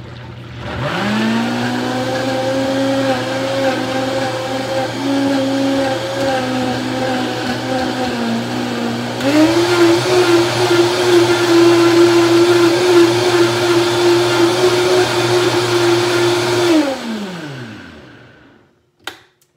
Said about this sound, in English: I use the plunger to push this one down. Not every blender.